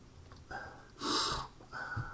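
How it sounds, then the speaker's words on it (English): Sniffling from someone with bad allergies: a few short nasal sniffs, close and moderately loud, with one stronger sniff in the middle, set against quiet room noise and no talking. "excuse me for sniffling. My allergies are really bad today"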